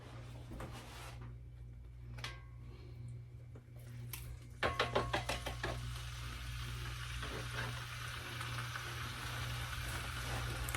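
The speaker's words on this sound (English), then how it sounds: "go ahead and put this pheasant breast, go ahead and put it in that skillet so it can be starting to get browned" Pheasant breast sizzles steadily in a hot skillet, a quiet continuous frying hiss that swells after a few clattering knocks, with faint kitchen clunks in the background.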